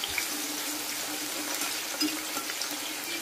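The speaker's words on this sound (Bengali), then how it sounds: "আগে আলুটা ভেজে দিই" Potato slices fry in a pan with a soft, continuous sizzle and hiss, alone and fairly quiet throughout.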